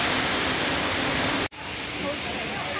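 A steady, loud rush of falling water from a waterfall near an entrance fills the air as an unbroken broadband roar, briefly cut off partway through and then resuming at a slightly lower level.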